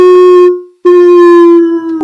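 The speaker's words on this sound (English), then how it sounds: "barks and yips begin exploding from the forest" Dogs howl and yip from a forest at night in an audio drama, one sustained tonal howl breaking off briefly and then resuming, loud and close with no talk over it.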